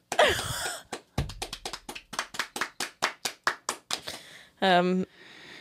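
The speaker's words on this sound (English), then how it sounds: "Round of applause for Anissa." A small group playing a scoring game gives a short round of applause: about fifteen sharp, evenly spaced claps, close and fairly loud, with a voice briefly before and after.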